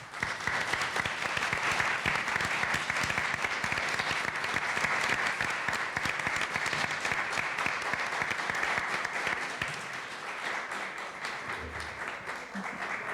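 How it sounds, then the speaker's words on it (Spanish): Sustained applause for Margo Glantz, winner of the Carlos Fuentes International Literature Prize, at a university book house tribute, a steady dense wash of clapping from a large audience that eases slightly near the end. "Para la ganadora del Premio Internacional de Literatura, Carlos Fuentes, pido un aplauso."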